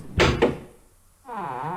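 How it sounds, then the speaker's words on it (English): Two heavy thuds of a door being whacked open in the video game Tomb Raider 2, set aboard the wreck of the Maria Doria, followed after a short pause by a rising mechanical grinding as it slides away. "So let's just whack this door open."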